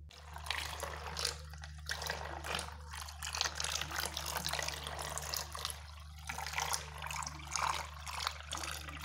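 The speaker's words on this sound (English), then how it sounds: "Here is a toy dolphin. It has a propeller which gives backward force, will make this dolphin to move forward." A small toy dolphin driven by a propeller moves through water with faint sloshing and trickling over a low, steady motor hum, quiet and continuous without talk.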